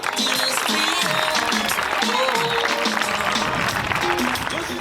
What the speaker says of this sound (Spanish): le damos un fuerte aplauso a Javier García